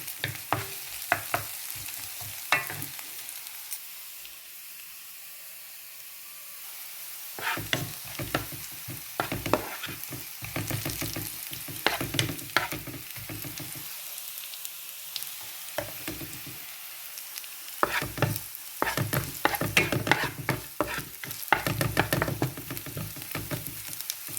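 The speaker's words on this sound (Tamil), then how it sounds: "வெங்காயம் வதங்கி வந்துட்டுது" Onions sauté in a pan for an ivy gourd (kovakkai) dish, giving a steady sizzle broken by bursts of spoon scraping and stirring, close and fairly loud, with no voices.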